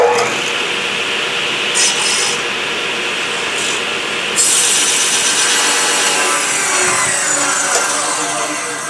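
A table saw blade shaves a thin strip off a scrap 2x6 board with a steady, loud, continuous whine and wood rasp that runs the whole time and then begins to wind down near the end.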